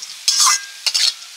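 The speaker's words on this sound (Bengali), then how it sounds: "এগুলো ভেজে নিচ্ছি।" Peeled pumpkin seeds frying in a pan, with two bursts of scraping stirs over a light hissing sizzle, close and fairly loud, separated by a brief quieter gap.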